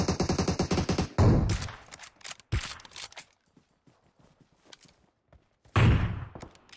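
Rapid automatic gunfire from a PUBG match, a dense rattling burst up front followed by scattered single shots and clicks, with a second loud burst near the end.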